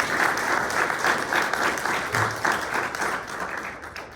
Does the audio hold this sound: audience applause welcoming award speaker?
yes